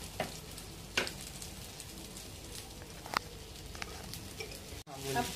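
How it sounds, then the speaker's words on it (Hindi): Fish frying in oil in a pan, cooked on one side and now browning on the other, gives a soft, steady sizzle with a few sharper pops and crackles, fairly faint and close, with no talk. "अभी दूसरे तरफ से फ्राई होगी।"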